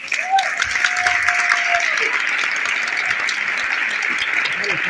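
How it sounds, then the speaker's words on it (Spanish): A live audience at a business talk in Córdoba claps together, steady and fairly loud, with faint voices and a brief whistle-like tone mixed in. "un fuerte aplauso para ustedes"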